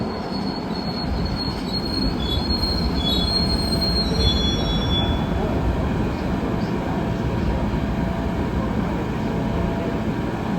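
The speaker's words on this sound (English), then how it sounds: "A northbound, Red Line train is approaching the station." A MARTA Red Line subway train pulls into West End station, its wheels letting out loud, sustained high-pitched squeals over a heavy, continuous rumble of railcars rolling along the track.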